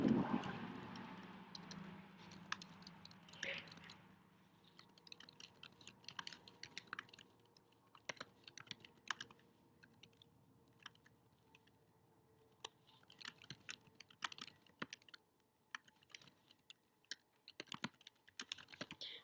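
Computer keyboard typing, a steady patter of light key clicks in quiet, irregular runs with short pauses between them, close by and without talk.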